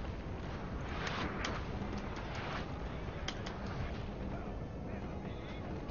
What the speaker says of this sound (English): I thought I stopped my cannons.